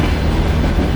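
Train running on rails in Russia, a steady, dense rumble and rattle of the carriage heard from on board, continuous and loud with no talk.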